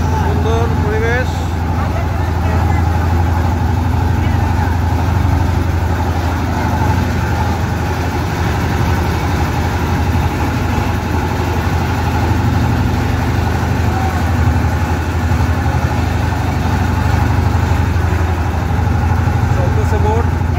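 An engine-powered tourist boat cruising on Foy's Lake in Chittagong, its motor droning in a steady low rumble throughout, with people talking nearby over the engine.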